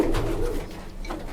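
Pigeons in a breeder's collection give low, continuous throaty cooing, close and steady throughout the short stretch with no talking.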